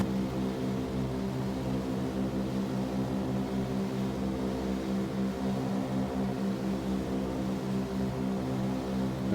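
A steady, droning propeller airplane engine in the X-Plane 12 flight simulator, a continuous even hum with a pulsing buzz that holds at constant loudness throughout with no talk.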